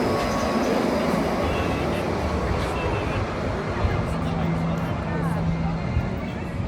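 Steady rumbling ride aboard a Disneyland Resort tram, a continuous low hum of wheels and motor with faint background chatter.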